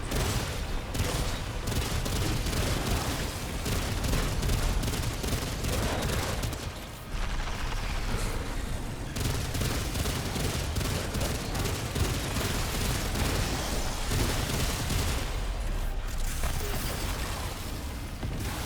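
Automatic sidearm fire in the video game Remnant 2, a dense and nearly unbroken stream of rapid shots. It is loud and close, with one brief gap before the firing resumes.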